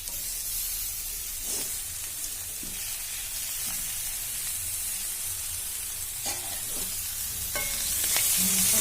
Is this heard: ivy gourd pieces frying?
yes